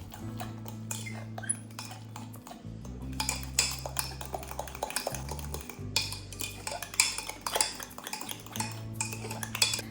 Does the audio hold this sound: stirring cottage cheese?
yes